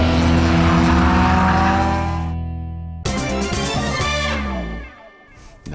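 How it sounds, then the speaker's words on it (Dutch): Race car lapping the Zandvoort circuit, a loud high-revving engine climbing through the gears, a sharp cut and gear change, then hard acceleration again before the revs drop away, close and dominant. "Ik ga een rondje rijden, tot kijk."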